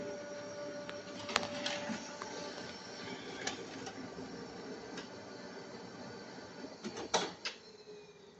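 Ricoh laser printer printing a page over a USB connection: a steady mechanical whir with several sharp clicks and clacks, and a louder burst of feeding and ejection near the end.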